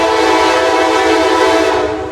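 A westbound freight train passing through Thurmond blasts its horn in one loud, steady, sustained tone close by. Rumbling wheels run underneath, and the horn eases slightly at the very end.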